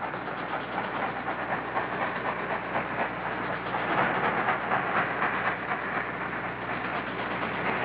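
A train rolls past in a 1951 Civil War film, a continuous loud rumble with a rhythmic clatter of wheels that swells toward the middle and holds steady, with no voices.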